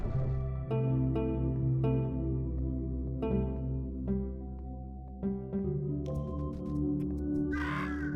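Crows caw repeatedly in sharp, separate calls over a steady low droning background, the calls spaced irregularly and clustering near the end, with no talking.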